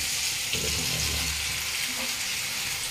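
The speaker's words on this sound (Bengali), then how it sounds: "মাছ ভাজাটা চাপাবো, দেখি কী হয়।" Fish frying in a pan in a home kitchen, a steady soft hiss and crackle of hot oil, fairly quiet, with no talk over it.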